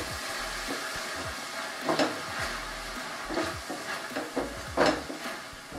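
Gobi 65 sauce being stirred in a hot pan, with a steady sizzle and repeated scraping strokes of a spoon; there is no talking.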